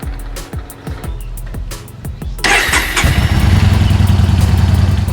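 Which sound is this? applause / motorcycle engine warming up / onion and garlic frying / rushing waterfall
motorcycle engine warming up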